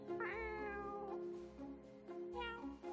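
A cat meows in the puzzle game The Cat Machine, two clear, close, drawn-out meows separated by a short pause over a low, steady game background.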